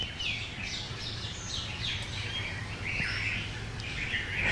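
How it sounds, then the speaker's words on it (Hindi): Small birds chirp and tweet outdoors in a quiet setting, several short bright calls repeating irregularly over a low steady background hum, fairly close and clear. "तो ये छोटी छोटी चिड़ियाँ चहक रही हैं"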